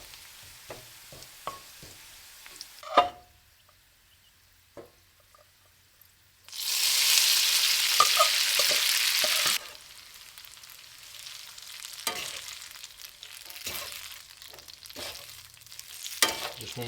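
Garlic hits hot oil in a pan and sizzles loudly for a few seconds, then settles into quieter frying with occasional stirring clinks and scrapes, with no voices.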